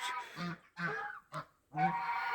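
Geese standing on snow give four loud, close honks in quick succession, separated by brief silences.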